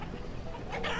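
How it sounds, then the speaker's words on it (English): Chickens cluck softly in the village-building video game Banished, a brief, faint burst of clucking with a sharper squawk toward the end. "we are starting to get chickens."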